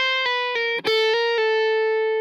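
Electric guitar plays a short lick of clean, sustained single notes over an A altered scale, with a few picked attacks, one slide or hammer between notes, and a final long ringing note.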